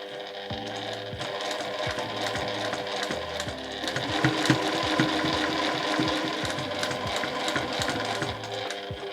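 Electric sewing machine stitching fabric seams on a bicolor tote bag, a steady close mechanical whirr with rapid needle thumps that stop and restart in short runs, with no talking.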